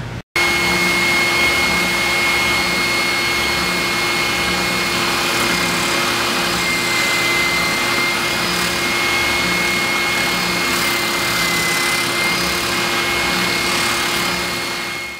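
Oscillating spindle sander running steadily with a wooden piece held against the spindle on a pivot jig, a loud continuous motor whine and whir that holds level for the whole stretch, with no talking.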